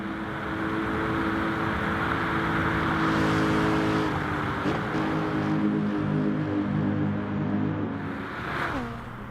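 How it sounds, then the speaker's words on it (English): Race car engine in the video game Gran Turismo Sport, a steady droning whine held at high revs with a brief shift near the end, alone and fairly loud with no other cars close by. "You can finally hear the car now that I'm away from everybody."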